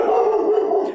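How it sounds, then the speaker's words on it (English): A dog gives a single drawn-out howl with a wavering, slightly barking edge, loud and close, heard alone for about a second. "That's my dog."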